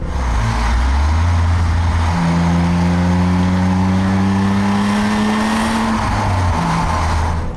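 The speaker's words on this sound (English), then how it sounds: "Oh, it's got some real go. I mean, this is a truly fabulous engine." A BMW Z3 M Coupe's engine pulls hard under acceleration, a loud, close rising drone that climbs in pitch through the gears, with a brief shift dip midway and a steady rush of road and wind noise.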